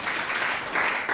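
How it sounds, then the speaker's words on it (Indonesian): Close, steady applause from a classroom audience for a presenting group in a tax-agent training session, an even wash of many hands clapping without pause. "Tepuk tangan buat kelompok"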